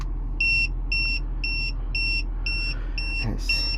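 An RV TST-507 tire pressure monitor alarm beeps in a steady rhythm, seven short high double-toned pulses over a low engine-like hum, with a brief click near the end.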